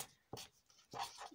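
Pen strokes on paper while writing messages inside a folded paper fortune teller: two short scratchy bursts, close and soft, with no voices.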